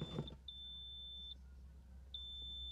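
A factory immobilizer on a late-80s Porsche 944 Turbo beeps after its chipped key is placed in the socket: a short chirp, then a sustained high electronic tone, a pause, and another long steady tone, clear over a quiet low rumble.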